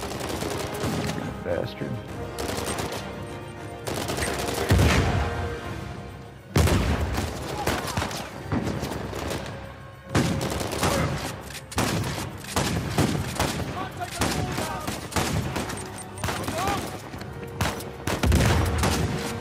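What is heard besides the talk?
shotgun gunfire in the video game Uncharted 4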